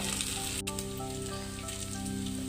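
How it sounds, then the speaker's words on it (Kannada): Ginger garlic paste frying in a pan for pulao, a quiet, steady crackling sizzle with a faint hum underneath and no talk over it. "ಶುಂಠಿ ಬೆಳ್ಳುಳ್ಳಿ ಪೇಸ್ಟು ಹಸಿ ವಾಸನೆ ಹೋಗುವವರೆಗೂ ಸ್ವಲ್ಪ ಹುರ್ಕೊಳ್ಬೇಕು"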